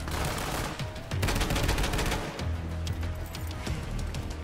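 Rapid bursts of video game gunfire, dense automatic rattling and shots that fill the whole stretch, loud and close with only brief dips between volleys.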